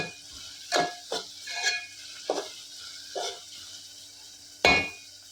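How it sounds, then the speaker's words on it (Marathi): Onion frying in a pan for a Sode Bhat (dried prawn rice) pulao, heard as soft background sizzle under about six distinct spatula strokes scraping across the pan at irregular intervals, with no talking. "संपूर्ण परतळून घ्यायचं आहे कांदा छान पोळायला सुरुवात झालेली आहे"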